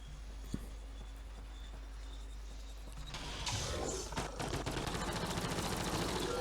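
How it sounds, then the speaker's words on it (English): Rapid bursts of video game gunfire rattle in the distance, growing denser and louder partway through over a steady low background hum. "I hear an awful lot of gunfire"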